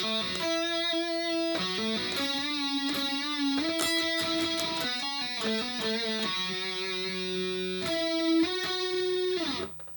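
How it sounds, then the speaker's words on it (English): Distorted electric guitar playing a riff: a busy run of gritty, saturated notes with sharp pick attacks, steady and loud throughout, ending abruptly. "it's going to kick in with distortion doing this."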